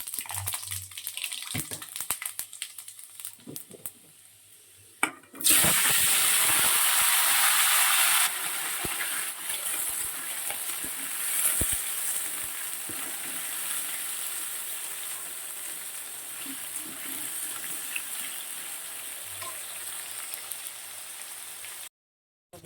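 Panch phoron spices sizzle sharply as they hit hot oil in a kadai, a sudden loud crackling burst that settles into a steady hiss, preceded by quieter kitchen sounds.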